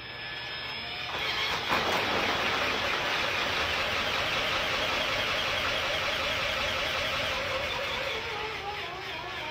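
A power drill spins a spin-art painting, giving a loud, steady whirring motor drone that starts after a second and holds to the end, with a rising and falling tone as it turns.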